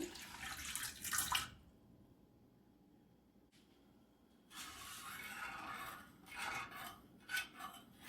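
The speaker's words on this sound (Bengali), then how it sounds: "হাফ কাপ পানি দিয়ে দেবো" Half a cup of water is poured into a pan holding sugar to start a syrup. Several soft splashing and trickling bursts come and go with quiet gaps between them, and no one speaks.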